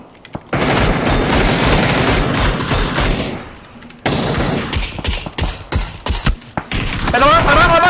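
Rapid gunfire in PUBG during a competitive squad match, dense bursts and sharp shots crowding the first half, then scattered cracks and thuds, with voices chattering underneath.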